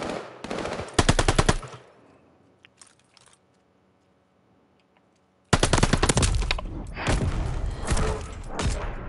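Video game gunfire on console: a loud burst of rapid automatic shots, then a near-silent gap with faint clicks, followed by another long, dense stretch of close, heavy firing.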